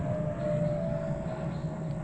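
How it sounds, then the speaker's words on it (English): A jet aircraft passes high overhead above a campsite, heard as a distant, steady roar with a faint whining tone that stays even for the whole stretch. "See the jet flying over?"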